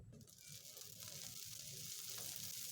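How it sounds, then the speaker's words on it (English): Butter sizzling in a hot pan before cauliflower is fried, a steady close hiss that swells slightly and holds throughout. "Now hot pan, add butter in it"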